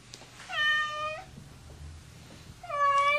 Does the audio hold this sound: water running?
no